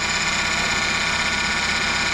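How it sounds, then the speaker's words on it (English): Power steering pump on a car with low fluid, whining steadily while the engine idles, a constant close hum and drone with no talking. "Pump's just gonna whine a little bit."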